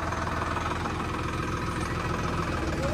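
A tractor engine idles steadily nearby, a continuous low mechanical rumble with a faint knocking pulse, running alone without speech for the whole stretch.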